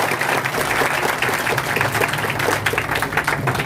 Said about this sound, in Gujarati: એકદમ જોરદાર તાળીઓનો ગણગણાટ